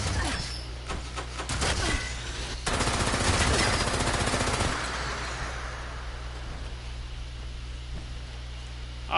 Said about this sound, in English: If you hear gunfire, then you head to the gunfire.